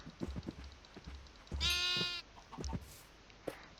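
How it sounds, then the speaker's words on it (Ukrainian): A Minecraft sheep gives a single clear, drawn-out bleat mid-clip, with soft scattered game sounds before and after, fairly quiet overall. "А отут можна також порозмножувати овечок."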